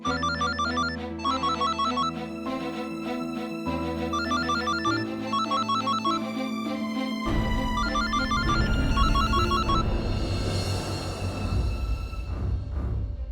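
A musical phone ringtone plays as a call comes in from a diabetes doctor. A loud melodic tune loops steadily and then gives way to a denser, noisier musical passage, with no speech over it.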